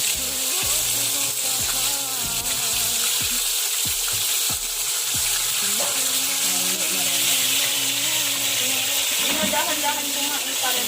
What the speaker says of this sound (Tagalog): dumikit na po yung piniprito ko